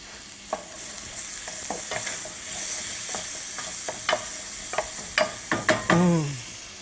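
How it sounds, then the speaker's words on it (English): Diced red onion and red pepper sautéing for corn chowder, a continuous sizzle punctuated by repeated spoon scrapes and clicks that grow busier and louder toward the end, with no speech. "We have some diced red onion that we're going to add, and some diced red pepper. And we're going to saute these until they're soft."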